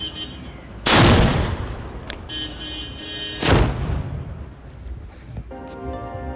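Two loud cannon blasts boom out at a village festival during the Gavpalan at Achara, Malvan, a few seconds apart. Each sharp boom rolls off into a fading rumble over quieter background noise.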